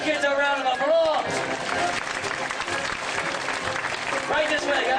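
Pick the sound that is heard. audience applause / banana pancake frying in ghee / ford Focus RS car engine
audience applause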